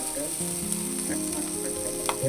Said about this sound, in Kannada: ಪಟ ಪಟ ಸಿಡಿದು ಬಿಡು